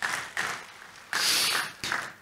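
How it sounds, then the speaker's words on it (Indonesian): Congregation in an Indonesian church worship service clapping for Jesus, the applause rising in several loud surges with brief dips between, close and continuous, no voices. "Tepuk tangan buat Tuhan Yesus"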